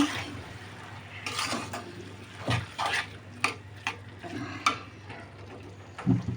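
Beef being stirred and fried in a pan with green chillies and coriander leaves, with irregular metallic scrapes and clanks of a spatula against the pan and a soft sizzle underneath.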